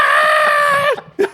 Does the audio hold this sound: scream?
yes